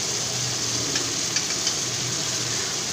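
Soaked Gobindobhog rice frying with masala in a pan, a steady close hiss and crackle of sizzling with a few faint stirring clicks, no talk.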